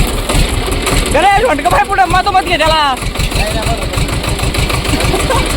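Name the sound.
tractor engine idling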